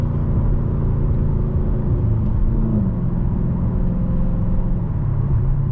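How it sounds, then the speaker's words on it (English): A 2020 Dodge Challenger Scat Pack Widebody with a fabricated H-pipe and mid-muffler delete drives at about 50 mph under throttle, giving a steady loud low exhaust drone and road rumble from inside the cabin. "So as you can see, I'm going 50, got my foot on the accelerator."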